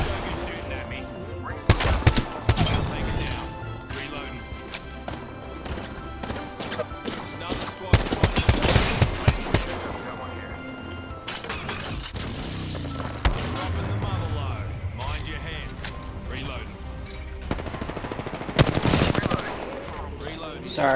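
Machine gun fire in the battle royale game Apex Legends comes in loud, sharp bursts separated by quieter stretches, with voices talking between the volleys.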